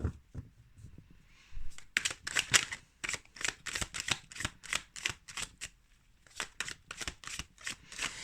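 Tarot or oracle deck shuffled for a love reading: after a quiet start, a long stretch of crisp, rapid riffling and card slaps in quick bursts, close and soft, with no speech.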